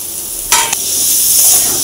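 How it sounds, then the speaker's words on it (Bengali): Cut potatoes being stirred into a spice mix in a pan for an egg curry, a hissing sizzle with a brief burst of scraping near the middle, close and fairly loud. "ভালোভাবে মিশিয়ে নেব মশলাগুলো আলুটার সঙ্গে"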